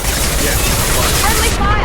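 Video game gunfire rattles continuously and loudly through the whole short moment, dense and close, with voices mixed in over the shooting.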